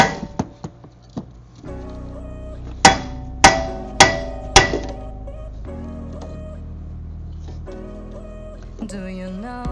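A hammer strikes to knock a brake rotor loose, with a few light taps and then a series of sharp metallic blows in two groups, over steady background music.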